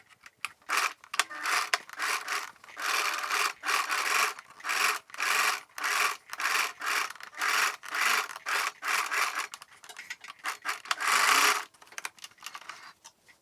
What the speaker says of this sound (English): I'm going to do the stitch again because I feel like it's not tight enough